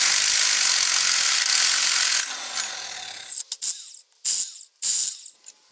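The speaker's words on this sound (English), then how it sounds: "go and buy this electric impact. It really saves a lot of time." An electric impact wrench works on a Ford 8.8 axle, giving about two seconds of steady, loud mechanical rattling and then several short, choppy bursts separated by brief pauses.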